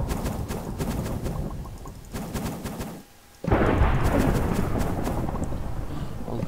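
Thunder in the Minecraft video game rolls as a loud, broad rumble that cuts out briefly midway, then crashes back in and sustains to the end.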